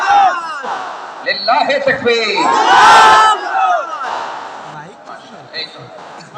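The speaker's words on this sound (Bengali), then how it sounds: "সবাই মিলে তিন তাকবীর গলা ছেড়ে দিয়ে আওয়াজ করে পড়ুন" A large gathering at a religious mahfil in Jashore shouts the takbir together, loud massed voices swelling and peaking in a roar, with a leader's voice also heard through the crowd.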